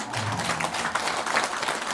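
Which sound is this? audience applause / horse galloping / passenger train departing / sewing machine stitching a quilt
audience applause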